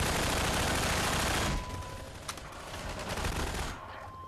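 Half-Life 2 gunfire, a dense burst of rapid automatic shots for the first second and a half, then a quieter stretch with a single sharp crack and faint ambient hum.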